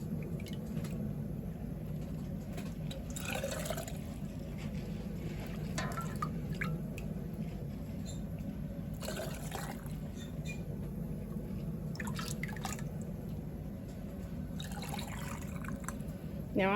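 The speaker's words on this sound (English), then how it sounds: "we're gonna just ladle it over into the jars." Chicken broth being ladled into canning jars, faint intermittent pours and splashes over a steady low hum of kitchen background noise.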